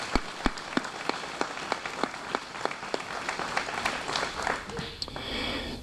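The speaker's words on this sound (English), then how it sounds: "So again, let's just give him a round of applause." Applause at a MABAS open house: a sparse, regular run of distinct claps, roughly two per second, fairly soft and roomy, thinning out and giving way to background murmur near the end.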